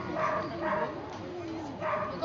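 A Boston Terrier barks and yips a few times in short, moderately loud bursts at an outdoor canine demonstration at a fair, with faint crowd noise around it.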